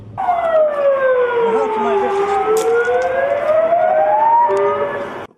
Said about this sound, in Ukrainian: Всього за хвилину до лікарні прямують пожежні машини.